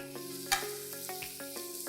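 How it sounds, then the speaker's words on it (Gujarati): Chopped capsicum and finely shredded cabbage sizzle in a pan for a brown onion pancake, a soft steady hiss broken by a few light scrapes and taps of stirring. "બધું આપણે સારી રીતે મિક્સ કરી દઈએ."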